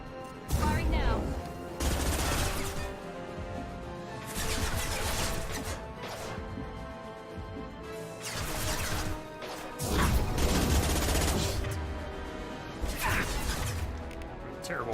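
Weapon fire in the Mass Effect 2 video game: repeated loud, broadband shots and crashing bursts in several clusters, close and harsh, with a steady game soundscape between volleys.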